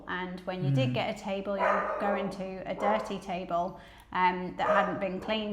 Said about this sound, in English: our dog Walt is barking at the postman or something